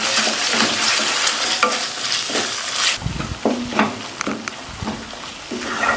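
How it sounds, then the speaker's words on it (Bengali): Ground spice paste frying with browned onions for rural-style mutton curry, a loud steady sizzle with repeated scraping stirs of a spatula against the pan, the hiss easing halfway through as stirring continues in short strokes. "মশলা ভালোভাবে কষানো হয়ে গেছে।"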